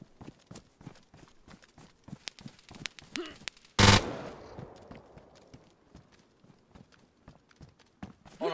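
Gunfire in the survival game DayZ: one loud, close shot with a long decaying echo, set among a steady run of rapid footstep-like thuds before and after.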